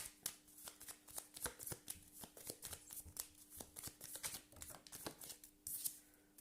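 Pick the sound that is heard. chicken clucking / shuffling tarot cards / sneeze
shuffling tarot cards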